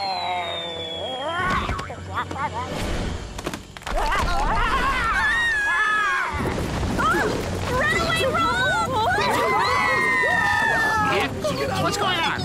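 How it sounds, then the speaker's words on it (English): A cartoon crowd screams in panic, with loud overlapping shrieks and yelling voices that swell into a dense, chaotic din for several seconds. "Why are they screaming?"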